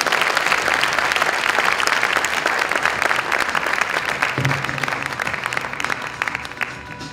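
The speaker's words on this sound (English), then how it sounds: "Folks, give her a round of applause." Loud, steady applause from a live audience at a stage hypnotist show, dense clapping from many hands filling the room without pause for about seven seconds.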